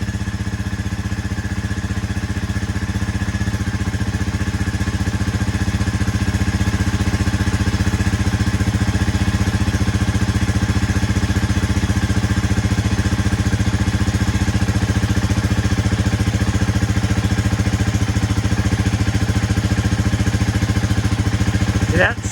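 A Honda CB300R motorcycle fitted with an Akrapovic exhaust idles steadily and fairly loud, a constant even putter that holds unchanged for over twenty seconds.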